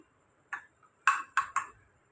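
Wheat flour batter with spices is stirred in a bowl; four crisp metallic clinks of a spoon hitting the bowl ring out in quick succession against near silence.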